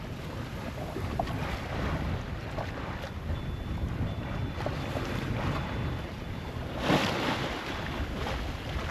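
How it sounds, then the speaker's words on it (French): Water slapping against a boat hull on an outing in fine weather, a continuous washing rush of waves and wind buffeting, with a louder splash near the end. "des fois il y a de l'eau qui claque là contre la coque, là, ça fait des vagues"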